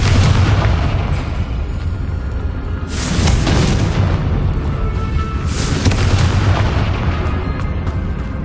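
Booming explosions from the Confringo blasting spell in Hogwarts Legacy, two heavy blasts rising out of a loud continuous rumble of game sound, no voices.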